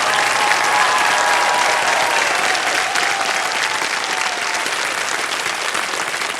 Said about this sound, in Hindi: जोरदार तालियां हमारे टॉप 2 चैलेंजर्स के लिए।